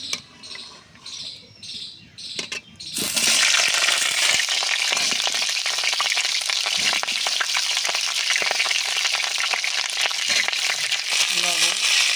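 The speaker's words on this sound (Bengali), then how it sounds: "আমি প্রথমে ভেজে নেব ফুলকপিগুলো" Quiet background with birds chirping, then cauliflower hits hot mustard oil and a loud, steady frying sizzle takes over for the rest.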